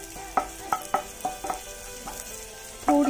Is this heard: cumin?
yes